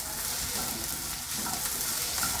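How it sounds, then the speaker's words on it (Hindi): Long-cut capsicum strips stirred in a hot pan for pizza topping, giving a steady, loud sizzle and frying hiss with light scraping of the spoon, no voices. "तो हम ये शिमला मिर्च डाल देंगे जो हमने लंबी लंबी काटी है।"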